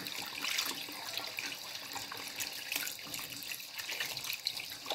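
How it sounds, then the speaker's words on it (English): Hands being washed under a running sink tap, a steady close hiss of water, with nobody talking. "This has been quite a long time with me washing my hands right now"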